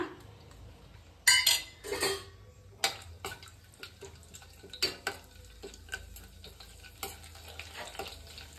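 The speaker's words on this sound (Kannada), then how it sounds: "ಎಣ್ಣೆ ಕಾದಿದೆ. ಪಲಾವ್ ಸ್ಪೈಸಸ್ಗಳು ಹಾಕೊಳ್ಳೋಣ." Pulao spices dropped into hot oil for an egg masala curry, a sudden crackling sizzle followed by scrapes and clinks of a spoon stirring in a metal pan, close and intermittent, with no talking.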